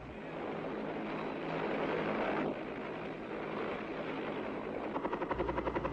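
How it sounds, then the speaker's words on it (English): Military helicopter gunships flying over a target area during an infantry division assault, a steady loud rotor roar with wind buffeting that gives way to rhythmic blade chopping near the end. "Helicopter gunships come over the target to reconnoiter and to suppress enemy movement in the area."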